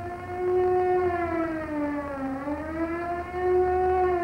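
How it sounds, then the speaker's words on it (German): Civil defense air raid drill siren, a loud sustained wailing tone that dips in pitch and rises again, steady and alone with no voices. "Eine Luftschutzübung, stell dir mal vor"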